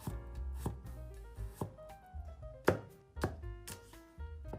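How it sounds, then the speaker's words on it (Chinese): A knife chops garlic into slices on a cutting board, with about a dozen irregular, fairly sharp strikes in a quiet kitchen. "然后蒜切成片儿"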